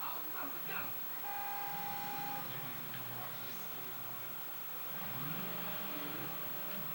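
A truck engine hums and revs in the video game Just Cause 2, a steady mid-pitched drone with a rise in revs near the end, heard faintly and at a low level.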